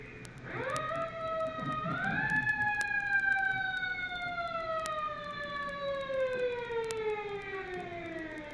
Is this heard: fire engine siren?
yes